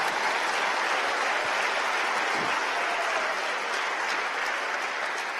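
A church congregation applauding during a sermon, dense steady clapping from many hands that fills the room without a break.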